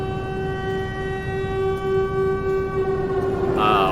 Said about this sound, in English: a bomb siren was going off because the nukes were falling